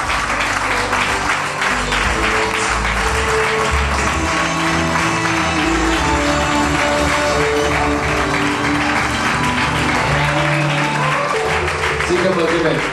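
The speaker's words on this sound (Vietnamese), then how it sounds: "chúng ta hãy dành một tràng pháo tay cùng nhiều quý vị" Round of audience applause welcoming a female performer at an artist's birthday party show, sustained clapping running throughout beneath music and a voice talking.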